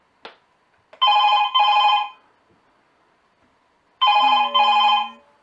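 A 5TECH Verus video intercom call rings out and is forwarded to a phone: a short tap, then two loud electronic double-burst rings about three seconds apart, clear and close.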